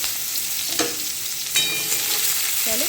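Chopped onion frying in hot oil tempered with nigella seeds, a steady close sizzle with a couple of brief stirring scrapes.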